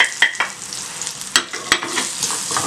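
Garlic powder, dried fenugreek leaves and Kashmiri red chilli sizzle steadily in hot oil, with a few clinks and scrapes of stirring close by.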